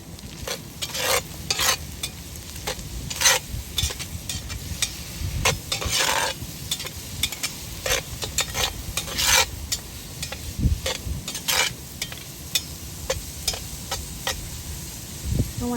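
Food stirred in a cast iron pot over a campfire, seasoned with garlic powder and black pepper, with steady sizzling and frequent scraping strokes of a utensil against the pot, loud and close, no voices.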